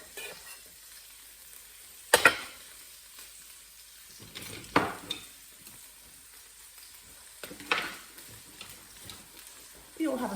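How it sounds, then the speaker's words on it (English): Garlic, ginger and chili crackle and sizzle softly in oil in a pan, with occasional sharp scrapes and stirs from a wooden spoon between quieter stretches of frying. "Just going to stir that around. It's a little bit crackly."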